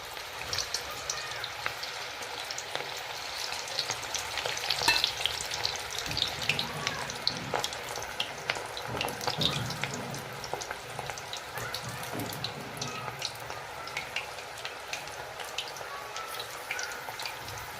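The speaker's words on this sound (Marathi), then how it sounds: "तेल छान तापलेलं आहे। आपण आता हे बॉल्स टाकून घेऊया याच्यात" Veg manchurian balls deep-frying in hot oil over a lowered gas flame, a steady close bubbling sizzle with crackling pops throughout, heard alone.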